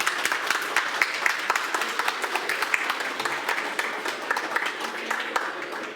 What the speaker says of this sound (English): let's have one last round of applause for everyone and